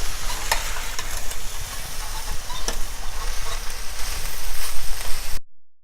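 Potato and cauliflower stirred in a hot pan make loud, continuous scraping and tossing over a busy sizzle, with sharper spatula knocks scattered through. The sound cuts off abruptly just before the end.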